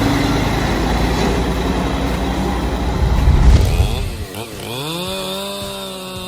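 A chainsaw cuts into a large tree, loud and close, with a rough, steady roar that swells as the cut bites deeper. The engine then winds down and revs back up at a higher, smoother pitch.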